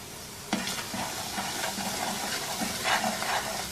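Semolina roasting in ghee with green cardamom in a pan over a flame, a steady close sizzling hiss with a sharp onset and small bursts of crackle as it is stirred, no voices.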